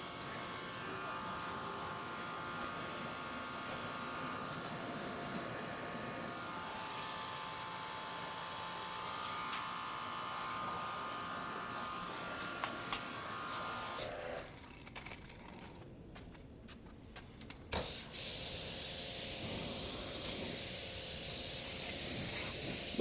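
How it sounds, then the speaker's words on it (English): Steady high-pressure spray from a spray gun hisses while rinsing a Nissan Pathfinder's undercarriage for most of the stretch, cuts out abruptly, and then resumes after a short quiet gap. "I'm gonna change the spray gun, do a final rinse underneath the car."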